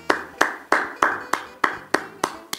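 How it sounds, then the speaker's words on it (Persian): Hands clapping at the close of a group physiotherapy exercise session, eight or nine crisp, evenly spaced claps from a single nearby person, no talking. "یه بار دیگه طبق عادت همیشمون خودتون تشویق کنید"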